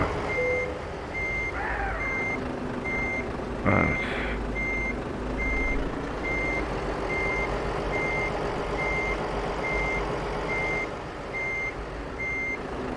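A truck in the video game Euro Truck Simulator 2 reverses, its backup alarm sounding a steady run of evenly spaced beeps over a low engine rumble, with a short air brake hiss partway through.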